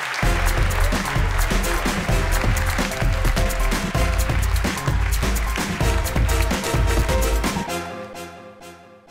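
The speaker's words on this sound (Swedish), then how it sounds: "en varm applåd" Warm applause from a theatre audience at a stage show, a full sustained burst of many hands clapping over a loud rhythmic music bed with heavy low beats, fading out near the end.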